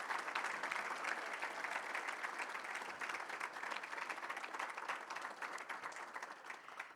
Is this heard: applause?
yes